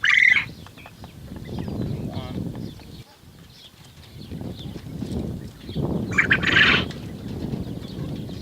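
A small rooster and quail gather around a feeder, with a sharp squawk at the start and another burst of chirping calls later, under a person's steady talking throughout.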